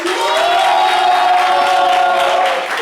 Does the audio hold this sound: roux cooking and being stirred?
no